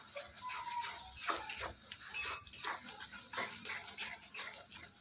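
A spoon clinks and scrapes in a pan as spice paste fries for a Bengali katla fish kalia, with a little water added; the sharp metallic taps and stirring strokes come close and repeated, and no one talks.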